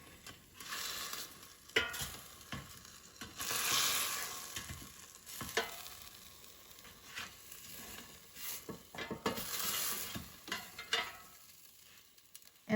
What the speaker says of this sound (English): let's take out the air fryer basket and flip the cube steak over